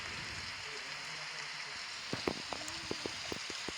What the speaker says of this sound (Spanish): Ah, no, ya empezó a llover.